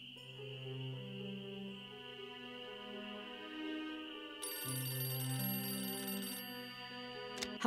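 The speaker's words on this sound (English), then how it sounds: "I wait for the phone to ring" A telephone rings steadily in the Nancy Drew game Ghost Dogs of Moon Lake, a repeating electronic bell-like trill over a droning background, loud and close, with no talking.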